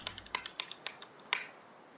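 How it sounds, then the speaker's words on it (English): Computer keyboard keys clicking in quick, uneven bursts of crisp taps, close and fairly quiet, ending with one sharper keystroke before falling silent. "Love your key sounds that you make."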